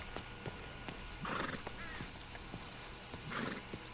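A horse in the video game Red Dead Redemption 2 whinnies twice over a steady background of hoofbeats and soft clatter, no voices present.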